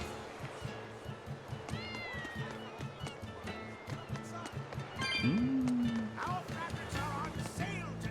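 Cats meow repeatedly in the Tales of Berseria video game, with several rising and falling cries layered over steady game music and background sound.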